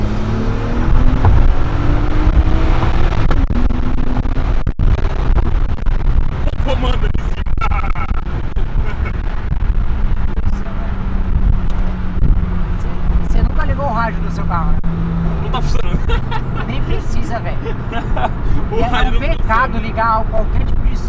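A Nissan Skyline engine drones and rumbles loudly throughout, rising and falling as it revs, with someone talking over it close by.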